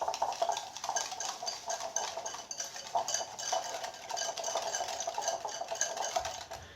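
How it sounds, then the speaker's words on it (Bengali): Egg and biscuit batter for pitha being whisked steadily in a bowl, giving a quick, continuous scraping and tapping rhythm that carries on without talk. "এবার এগুলোকে খুব ভালো করে মিক্স করে নেব।"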